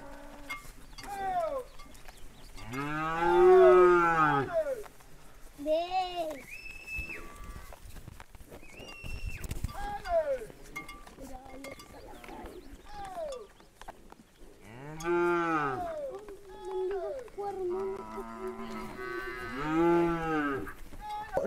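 Cattle on a ranch mooing repeatedly, several long, deep, drawn-out calls spaced through the scene, moderately close, with some faint background noises between them.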